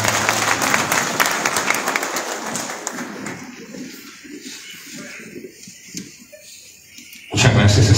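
An audience at a municipal gathering in Tacaná, San Marcos breaks into applause, loud dense clapping that thins and fades to scattered claps before a fresh burst returns at the end.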